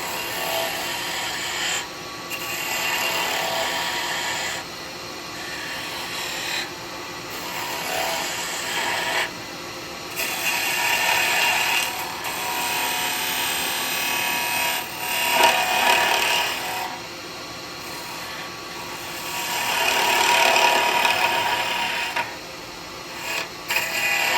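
Wood spinning on a lathe as a snowman head is shaped, with a tool scraping and hissing against the turning piece in long loud passes broken by short pauses.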